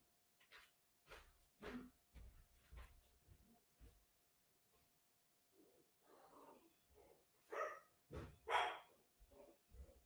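Spike, a house dog, barks excitedly at the mailman, a series of sharp, fairly distant barks and yelps arriving in irregular clusters with quiet pauses between them, growing more frantic toward the end.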